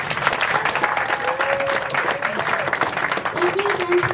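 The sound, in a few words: applause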